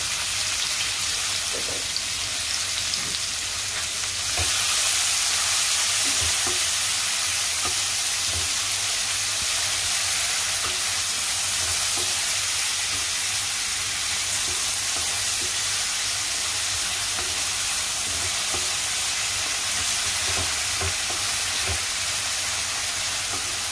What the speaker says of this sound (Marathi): आता आपण कांदा घालूया।